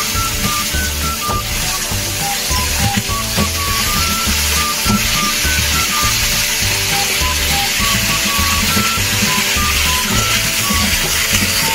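Chunks of potato, papaya and taro fry in hot oil in a pan, giving a steady, loud sizzle with stirring and scraping throughout, and no one speaks.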